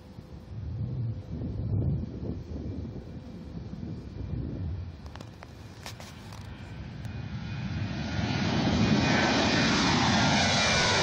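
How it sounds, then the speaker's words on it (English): A Southwest Airlines jet takes off from runway 30 right, engine roar building from a distant rumble into a loud, broad sustained roar with some wind buffeting on the microphone. "Southwest 531, tower runway 30 right, clear for takeoff."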